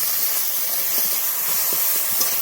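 Chopped tomato and a mixed spice paste sizzle in a hot pan, a dense, even frying hiss that holds steady throughout at close range.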